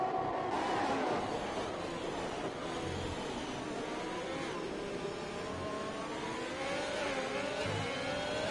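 Ferrari Formula 1 cars race in a video game at the Abu Dhabi Grand Prix, giving a faint, continuous high engine whine that rises and falls as the cars pass, with no talking.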